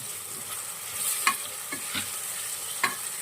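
Tomato frying with turmeric and salt in a pan, a steady close sizzle with a few scraping stirs of a spoon breaking through, no voices.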